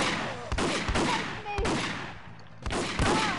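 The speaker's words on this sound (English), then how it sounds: "where the fuck am I being shot?" Gunfire in the shooter 007: The World Is Not Enough, on the Turncoat mission: several sharp, loud shots land in uneven bursts about a second apart, each trailing off into a reverberant tail before the next volley.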